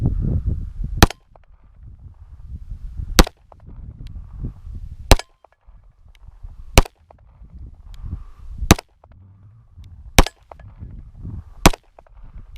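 An FN Reflex pistol firing practice rounds, seven sharp, loud shots spaced roughly every one and a half to two seconds, with quiet low rumble and handling noise between them.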